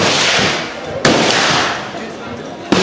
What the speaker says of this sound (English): This is the firing range.